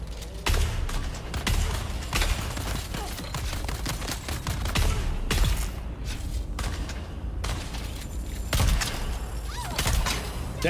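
Weapons fire in rapid, repeated bursts in Dune: Awakening, a dense clatter of close, loud shots and impacts that keeps going almost without a break.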